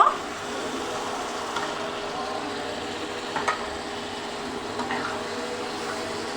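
Eggs are gently stirred in a pan for egg curry, producing a soft low sizzle with a few faint scraping touches, steady and fairly quiet, no talking.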